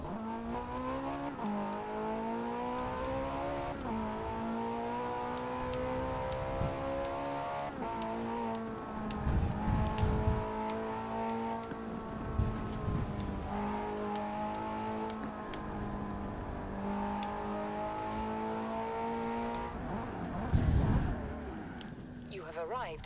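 A 2007 Ferrari 430 Scuderia in a Forza racing game, its engine droning and revving through shifting gears for a sustained stretch, heard under ongoing talk.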